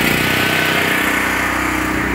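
A portable generator feeding a meter-mounted transfer switch runs at close range, its engine a loud, steady, rough drone with a regular pulsing chug and no pauses.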